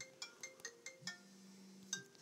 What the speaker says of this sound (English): my roommate's phone just started ringing